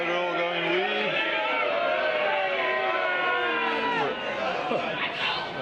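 Crowd at a crown green bowls championship match reacting as a bowl runs, many voices rising together in a sustained excited cry that swells and shifts, fairly close.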